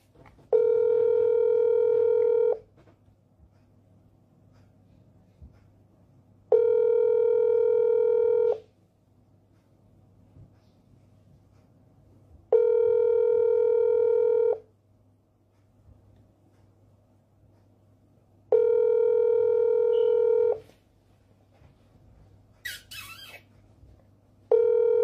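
Phone call ringing tone, a steady tone in long bursts of about two seconds separated by roughly four seconds of silence, repeating four times, with a brief squeak near the end.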